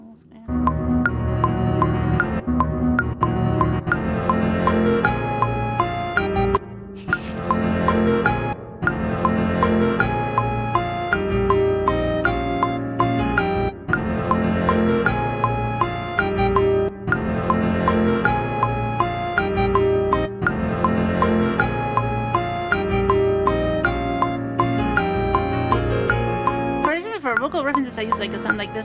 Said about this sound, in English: Get a simple sound here. Basic something square.